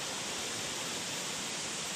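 Steady broadband rush of 14 Mile Creek pouring into the Ohio River, a continuous even wash of flowing water with no distinct splashes, fairly close and moderately loud.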